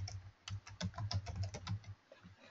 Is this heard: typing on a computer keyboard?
yes